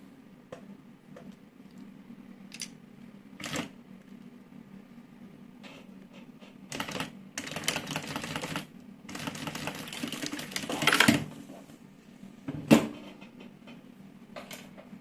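A sewing machine runs in short intermittent bursts while backstitching to reinforce a seam, quick mechanical stitching rattles separated by quiet pauses.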